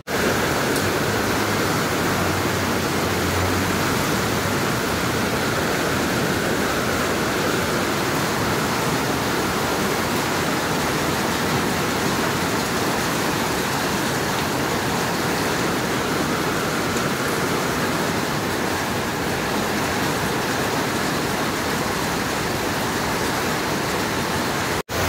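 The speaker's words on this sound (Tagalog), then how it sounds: "Kusog gyapon ng ulan" Heavy rain pours steadily during Typhoon Kong-rey in Taiwan, a dense, constant roar of rain and wind that stays loud and unbroken throughout with no talk.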